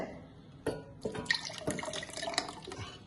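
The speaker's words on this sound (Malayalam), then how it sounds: "മിക്സി ജാറിലേക്ക് ഒഴിക്കുക" Half a litre of curd is poured into a mixer jar for a spiced buttermilk drink, giving close, soft glugging and splashing liquid sounds with a few sharper drips and knocks over about three seconds, with no talking.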